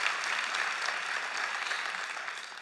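Audience applause at a children's health campaign anniversary event, steady dense clapping throughout, moderately loud and fading slightly at the end.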